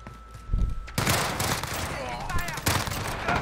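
Gunfire from the Renetti burst pistol in Modern Warfare, heard as loud, close rapid bursts over the game's noisy battle background, with faint whistling effects in between.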